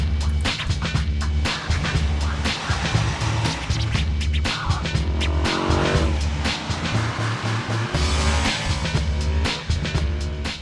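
An Aprilia Tuono motorcycle being ridden, its engine revving hard and rising and falling in pitch through gear changes, loud and close, with wind rush and no talking.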